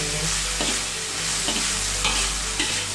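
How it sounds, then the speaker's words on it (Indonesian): Green beans and aromatics are stir-fried in a pan for a green bean omelette, with a constant close sizzle of frying and repeated scraping strokes of a spatula at an irregular rhythm, no voices. "tumis tumis tumis tumis hingga harum ya."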